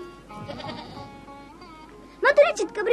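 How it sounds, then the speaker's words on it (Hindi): Small spotted goat kids bleating in a few short, close, fairly loud calls near the end, after a quieter stretch of low background sound. "मैं तेरे चितकबरी बकरियों के नन्हे मेमने देखे, ये कैसे मिमियाते हैं"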